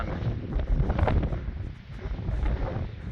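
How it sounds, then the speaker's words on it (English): Strong gusting wind on Franconia Ridge in the mountains buffets the microphone in a continuous roaring rush, rising and easing without any voices. "it's gotten really windy"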